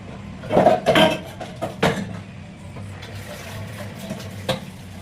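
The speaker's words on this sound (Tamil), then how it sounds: "வாங்க பாத்திரம் கழுவிட்டு பேசுவோம்" Dishes clatter and clink in a sink, with a few sharp knocks of pots and utensils over a low background hum, fading to quieter rattling.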